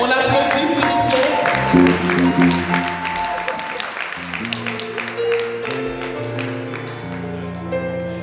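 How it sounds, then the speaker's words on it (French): An online prayer group audience claps for a sister as she arrives, a steady patter of hand claps mixed with sustained musical tones and voices throughout. "On l'applaudit s'il vous plaît."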